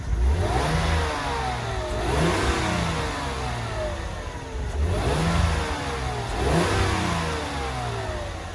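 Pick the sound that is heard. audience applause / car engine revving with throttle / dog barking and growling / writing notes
car engine revving with throttle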